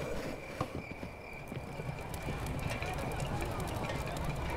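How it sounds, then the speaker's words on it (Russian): The horse in the video game Kingdom: New Lands trots with steady rhythmic clip-clop hoofbeats over an ambient game backdrop, moderately loud and continuous, while a voice talks now and then. "лошадка только что пощипала травку"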